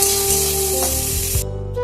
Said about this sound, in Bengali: এবার তিনটে সব একসঙ্গে একটু ভাজা ভাজা করে নেব